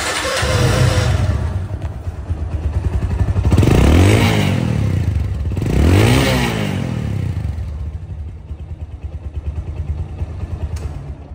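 A second-hand motorcycle engine idles with a rough, throaty rumble, revving up twice in quick swells before settling back to a steady idle, close and loud.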